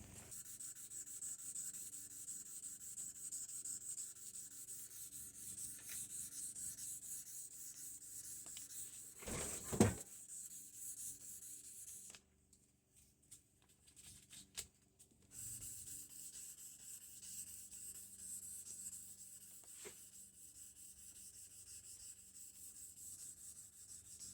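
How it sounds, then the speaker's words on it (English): Steady scratchy rubbing of 400-grit sandpaper by hand on a forged steel short sword blade, close by and repeating in strokes, with a short pause partway through and no talking. "Now we use 400 grit to finish the surface."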